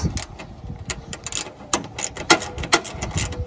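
Rapid metallic clicking of a 3/8 ratchet loosening the gas tank bolts on a Poulan riding mower, coming in quick uneven bursts at close range.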